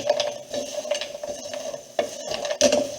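Sugar-coated pralines stirred in a pan, giving a rhythmic series of dry, rattling scrapes and clicks, close and fairly loud, with a couple of sharper knocks near the end.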